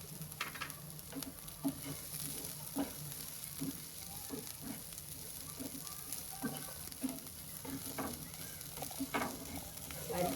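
Cabbage with spices stirred in a frying pan for upma, a steady low sizzle with repeated scraping and clinking strokes of the spoon, close and moderately quiet.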